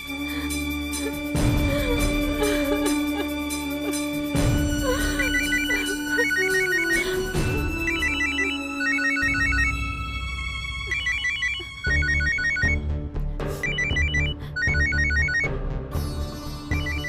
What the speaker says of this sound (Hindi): नताशा का फोन।